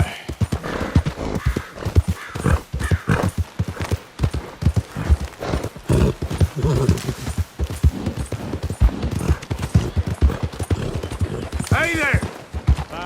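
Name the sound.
horse galloping and neighing in Red Dead video game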